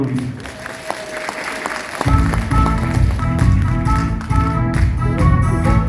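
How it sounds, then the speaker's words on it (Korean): An audience at a Gongju arts festival concert applauding a singer, scattered claps that swell into loud, dense clapping with music starting and voices over it. "여기 뭐꽉차 계시니까 박수로 청해 주십시오"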